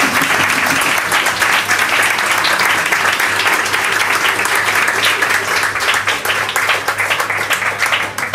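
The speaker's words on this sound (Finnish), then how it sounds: "Isot aplodit vieraille." An audience claps for guest performers at a gypsy-jazz gig in a bar, steady dense applause with some distinct individual claps, continuing strongly throughout before tapering slightly.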